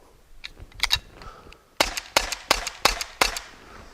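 A T4E .43 paintball marker dry fires on CO2, its follower held back by cord, giving a handful of sharp, close snapping pops, a few faint clicks first, then about six louder shots in uneven rhythm.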